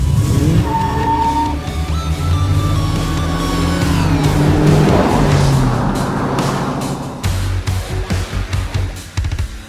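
Dodge Challenger 392 Scat Pack V8 accelerating hard, a loud, close engine roar rising steadily in pitch over several seconds before settling into a pulsing, throbbing idle-like rumble.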